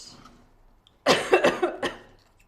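A close, harsh coughing fit: one sharp cough followed by several rapid hacking coughs, after a stretch of quiet background.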